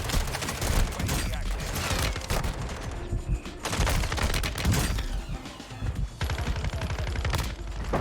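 SMG fire in Warzone: long, rapid bursts of automatic shots, loud and close, with short gaps between strings and a voice speaking briefly at points.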